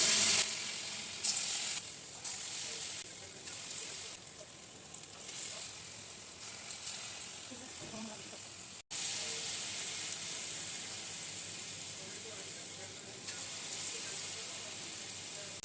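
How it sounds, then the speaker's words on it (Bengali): Palm fritters (taler bora) sizzle steadily in hot oil, a continuous bright crackling hiss with small bubbling variations and a brief dropout partway through. "এই যে এখন আমি তালের বড়া ভাজবো"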